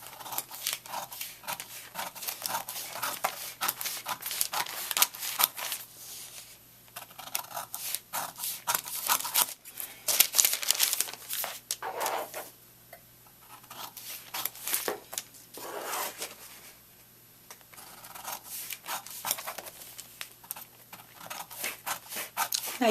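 Scissors snip steadily through paper while cutting out a sash belt pattern, with close, crisp repeated cuts in bursts and short pauses between passes, and no talking.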